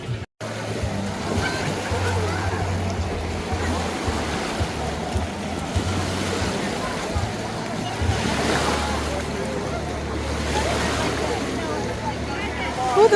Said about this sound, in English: This is like the wave pool, just swimming area here.